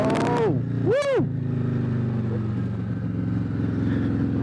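A 2020 Harley-Davidson Road Glide Special with a Stage II S&S 475 cam, loud and close, idling with a deep lumpy rumble and blipped once or twice to a sharp rising then falling rev before settling back to idle.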